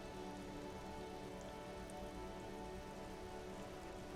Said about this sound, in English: The rain is bleak.